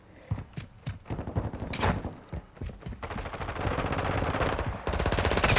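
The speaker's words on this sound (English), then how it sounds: "They're trying to shoot through doors." Rapid automatic gunfire from Call of Duty Modern Warfare II, loud close bursts of shots that build into a sustained, dense stream of fire with overlapping game action.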